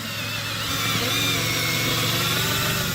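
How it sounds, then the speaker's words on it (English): A power drill bores the center hole for a front surface mount of a LilliPad diving board on a Bennington SX21 pontoon boat, running as a steady, loud whine with a low motor hum throughout. "what I'm going to do is drill the center hole of this front surface mount"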